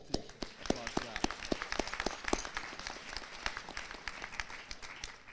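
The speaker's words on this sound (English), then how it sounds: "So special applause for that." Applause at a university hooding ceremony for a graduate born in a refugee camp, with scattered individual claps, sharp and fairly close, rising and falling over a steady crowd bed.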